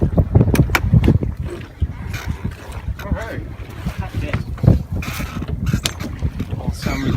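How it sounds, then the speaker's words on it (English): A Hunter Minstrel sailboat sails on the jib alone off Salcombe and Dartmouth, with wind rushing, water sloshing against the hull and rigging creaking in irregular knocks, close and fairly loud throughout. "Currently sailing on the jib alone."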